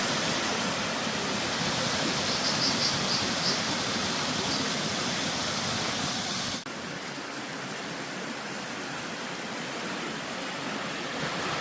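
Steady broadband rush of flowing water near Cheongpyeongsa temple by Soyang Lake on Obongsan in Chuncheon, continuous and fairly close, dropping abruptly to a softer, duller wash partway through.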